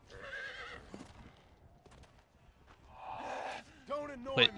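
A horse in Red Dead Redemption: Undead Nightmare whinnies loudly at the start and again near the end, with clip-clopping hooves and a snort in between, close and clear, while a voice speaks briefly.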